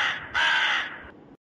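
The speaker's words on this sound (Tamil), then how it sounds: "இளவெடுத்த காக்கா வேற ஒரு பக்கம் காதுக்குள்ளே வந்து கரைஞ்சிக்கிட்டு கிடக்கம்மா" A single crow gives a long, harsh, rasping caw close by, loud and drawn out, with a brief dip partway through before it cuts off; nothing else is heard.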